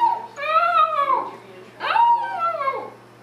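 A young dog lets out two short, wavering howls close by, each rising then sliding down, separated by a brief pause.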